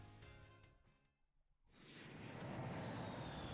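Airplane flying in the Pokemon Violet video game, a steady broad whooshing engine roar that swells in after a brief lull and holds loud to the end, following a softer musical passage.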